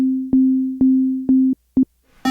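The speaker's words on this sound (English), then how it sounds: "So if I go to oscillator, you can have sine waves." A Roland TR-1000 analogue drum machine's oscillator plays a loud, pure sine-wave tone, retriggered roughly every half second as sustained notes, then two short blips before a brighter, buzzier tone cuts in at the end.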